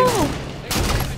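Gunfire in a Halo 5 match comes as a dense burst of shots and thuds under the noisy game mix, with a second rough blast after a brief lull.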